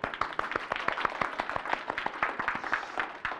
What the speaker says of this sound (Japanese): これも最後にお互いに拍手して終わりましょう